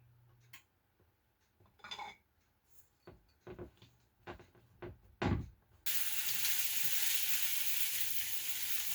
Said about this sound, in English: I'm just going to fry these until they have a crisp to them.